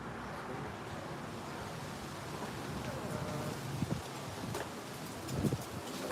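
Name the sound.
wind blowing through trees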